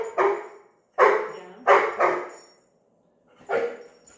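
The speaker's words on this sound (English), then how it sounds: "So barking is not relaxed." Four sharp, close dog barks, two in quick succession, then a pause before a final bark, with near silence between.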